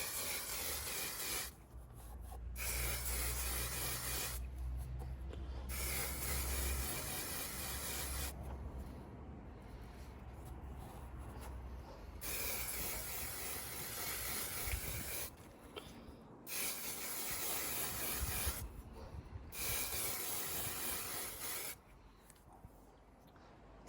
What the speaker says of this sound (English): Now it's just a case of giving the air filter a coat of air filter oil from K&N.